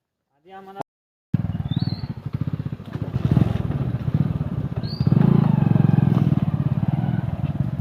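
A motorcycle engine idles and revs in a rough, pulsing rumble, with people talking over it and a brief chirp now and then.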